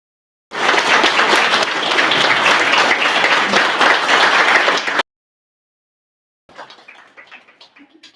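Wedding guests cheer and applaud loudly, a dense wash of clapping that holds steady for several seconds. It cuts off abruptly, and a softer, scattered burst of clapping follows after a short silence.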